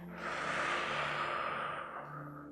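Long, deep exhale during a chair yoga session, a single breathy rush lasting about two seconds, close and steady, fading near the end with no spoken words.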